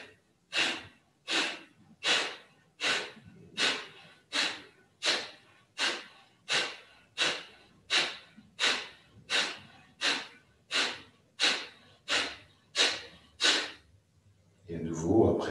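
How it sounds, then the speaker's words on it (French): Deep rhythmic breathing during a yoga breathing exercise, about twenty strong forceful breaths in a steady even series, close and loud, ending with a longer breath. "Une grande inspiration."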